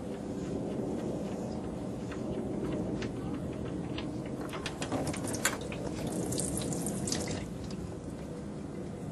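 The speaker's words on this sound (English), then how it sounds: "Next is loosening the drain bolt by hand, making sure that my drain pan's underneath now." Automatic transmission fluid from a 2003 Honda CR-V pouring out of the drain hole into a drain pan, a steady faint trickle and splash with scattered drips; quiet and continuous, with no talk.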